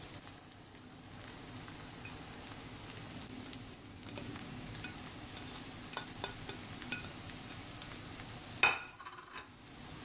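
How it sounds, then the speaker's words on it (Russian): Sliced mushrooms and onions fry together in a pan, a soft continuous sizzle with occasional light clicks of stirring, fairly quiet and close, without talk. "И продолжаем жарить грибы вместе с луком."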